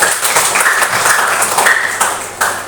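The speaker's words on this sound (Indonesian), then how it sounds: "tepuk tangan untuk kalian semua" Continuous applause from a group of participants in a classroom-style game session, a dense, steady patter of clapping with faint voices mixed in.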